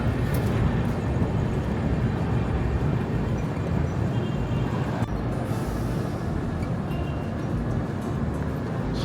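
Saraighat Express AC 2 Tier train rolling into Sainthia junction, a steady loud rumble of wheels and carriage noise throughout, with a faint hiss of air brakes partway through.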